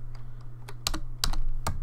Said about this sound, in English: my typing is really weird today